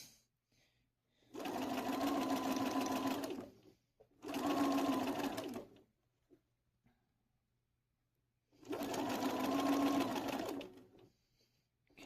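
A sewing machine stitches a quilt block with curved piecing. It runs in three steady, fairly loud bursts, each lasting one to two seconds, with short silent pauses between them.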